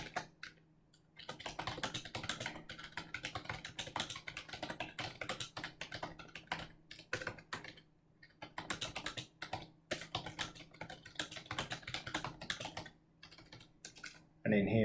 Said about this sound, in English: Now in the content, we can just type something here.